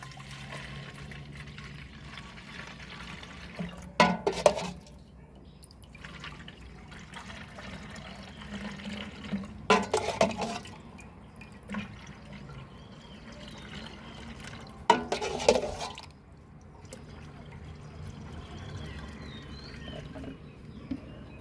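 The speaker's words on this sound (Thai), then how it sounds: "เราก็นำน้ำใบมะละกอใส่ถังฉีดพ่นกันเลยครับ" Papaya leaf water poured into a sprayer tank outdoors, a low steady trickling with three louder splashing bursts spaced several seconds apart, moderately close and without talk.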